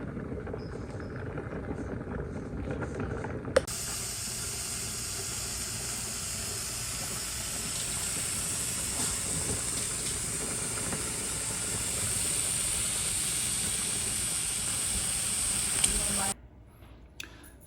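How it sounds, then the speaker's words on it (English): Steam hissing from a canning machine set for pint jars, a broad, steady hiss that starts suddenly, holds loud and even for about thirteen seconds, then cuts off sharply. "the steam is starting to come out of that."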